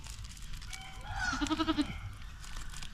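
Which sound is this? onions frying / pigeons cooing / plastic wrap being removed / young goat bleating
young goat bleating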